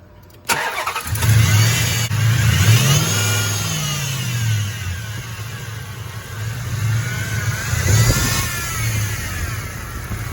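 A 2005 Dodge Durango 5.7L engine cranks and starts, revs up, then settles into idle with a high whining tone from a worn idler pulley running through it, close and loud.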